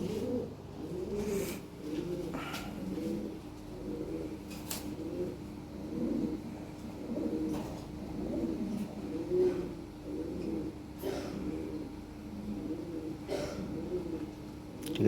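Lahori pigeons coo softly and repeatedly in low, rolling phrases, a steady run of overlapping calls close by with faint background noise.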